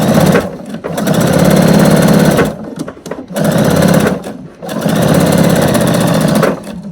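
A sewing machine quilts through a denim placemat in three long, fast bursts of stitching, with brief pauses between them. The machine is loud and close, with no voices.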